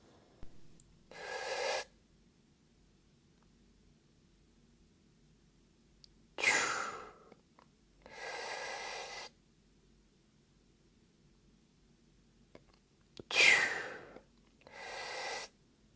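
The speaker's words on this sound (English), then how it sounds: "In terms of breathing, this is how it should look like during this exercise." Breathing during a free-weight split squat exercise: three cycles of a sharp inhale followed by a longer, steady exhale, close and fairly faint, separated by quiet pauses, with no speech.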